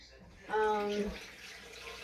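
Tap water runs into a Pampered Chef cooking blender jar, filling it to three cups: a steady, close broadband rush of water that swells briefly and then settles into a continuous hiss.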